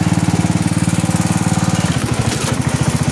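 A riding lawn mower engine chugs close by in a fast, steady rhythmic putter that stays loud throughout, with a slight change in tone near the end.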